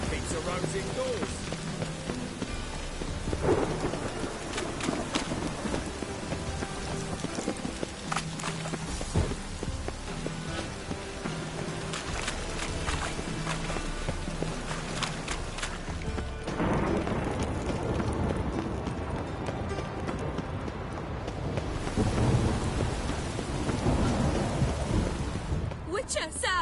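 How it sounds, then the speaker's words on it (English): Steady rain pours in The Witcher 3, with low thunder rumbling in the background through a long continuous stretch, while voices speak at times. "Must like the rain."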